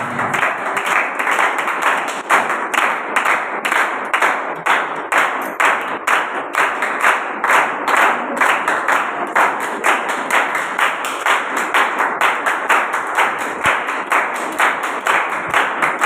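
At a church sermon gathering, the audience claps in a steady, rhythmic unison beat that goes on for about sixteen seconds, loud and close with no talking over it.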